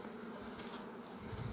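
Honey bees buzz in a steady, dense hum around a brood frame lifted from a hive outdoors, close and continuous with no voices.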